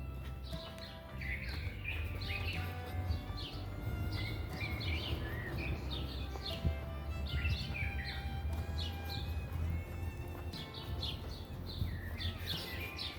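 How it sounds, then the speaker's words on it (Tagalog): Many birds sing and chirp in overlapping, busy phrases in morning trees over a steady low rumble, continuous and fairly close throughout. "Kasama natin ang mga ibon na kumakanta."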